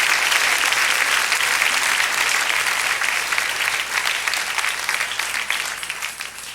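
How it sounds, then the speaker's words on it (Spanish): A Spanish-speaking church congregation claps for the Lord during a sermon, a full steady burst of applause that gradually tapers off toward the end. "Dale ese aplauso al Señor"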